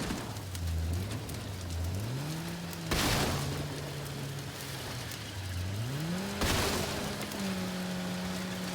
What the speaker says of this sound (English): The sound of crackling engine.